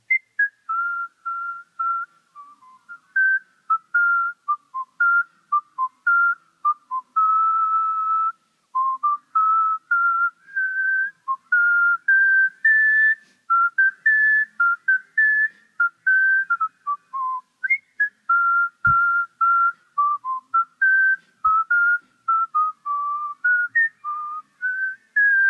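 A melodic whistled tune plays clearly and steadily, phrase after phrase with short pauses, as an audience whistles together; the sound is fairly close and clean with no talk.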